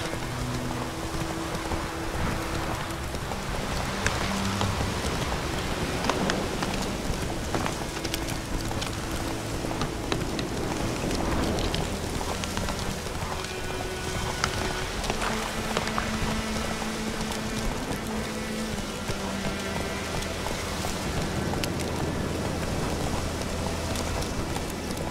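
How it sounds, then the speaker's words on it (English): Rain falls in The Witcher 3 game world, a steady, even hiss of drops pattering on surfaces throughout, with low game tones and faint hoof-like clopping beneath and no talk. "It's raining."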